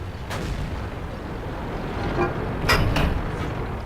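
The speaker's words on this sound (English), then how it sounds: "Just fire a little low there and hit the side of that hill." In World of Tanks, a Ferdinand tank destroyer's gun fires and a shell strikes a hillside. A sharp boom is followed later by two closer blasts over a constant low engine rumble.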